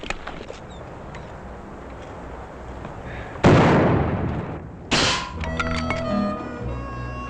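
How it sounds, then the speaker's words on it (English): Rifle shots in an old Western scene, two loud sharp blasts about a second and a half apart over a low background rumble, each followed by a short decay, with no talking. "it's the best darn shooting I ever saw"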